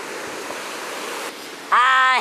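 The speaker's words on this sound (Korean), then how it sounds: "오늘 파도가 어마어마한데요?" Big ocean waves wash onto a beach at Gangneung in a continuous broad roar of surf. A voice briefly cuts in at the end.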